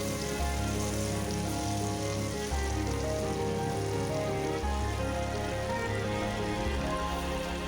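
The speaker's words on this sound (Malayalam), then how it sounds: "നിങ്ങൾക്കൊക്കെ ഇങ്ങനെ നല്ല മഴ ഉണ്ടോ?" Heavy monsoon rain pours down steadily outside a home kitchen, a dense, even hiss that never lets up. A low hum runs beneath it.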